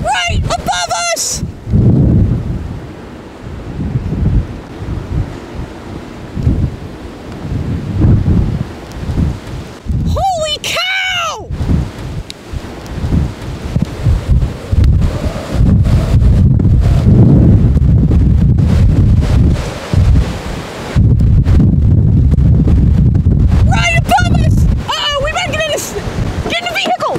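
Strong wind from a passing tornado in Oklahoma roars and buffets the microphone in loud, sustained gusts, with rumbling bursts and excited voices speaking over it.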